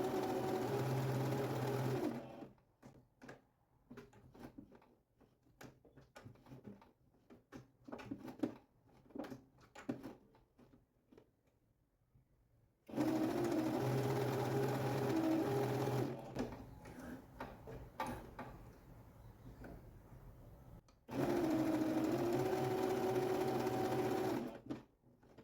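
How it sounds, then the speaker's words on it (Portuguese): Sewing machine stitching along a marked line on a fabric bunny ear for an Easter bag project, in three loud sustained runs separated by quieter stretches of fabric handling and small clicks. "Então, eu vou costurar em cima do risco, tá?"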